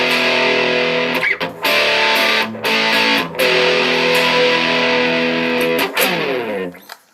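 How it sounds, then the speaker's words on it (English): A Crate GX-60 practice guitar amp on its distortion channel, loud sustained distorted chords ringing out with a few brief breaks between strums, fading away at the end. "This gives you a chance to hear what it sounds like distorted."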